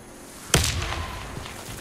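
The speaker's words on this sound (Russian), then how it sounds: "Кидаю гранату!" In Warface, a thrown grenade goes off as one sudden, punchy blast that decays into a rumbling tail, with faint background noise before it.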